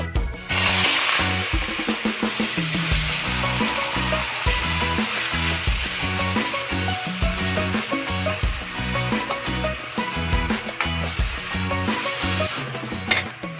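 Beef liver frying for bistek, a loud continuous sizzle close by with occasional stirring clatters, steady from start to finish with no talking.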